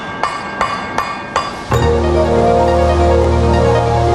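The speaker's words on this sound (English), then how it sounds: "the billet will more easily fuse together with hammering." A hot steel billet being forge welded takes four sharp, evenly spaced hammer blows, each ringing briefly. A loud, steady mechanical drone then sets in and covers the rest.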